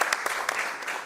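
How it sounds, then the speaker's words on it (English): An audience claps for Metaco at a crypto infrastructure talk, a short burst of dense applause with a few sharper claps, close and fairly loud. "Let's applause to Metaco."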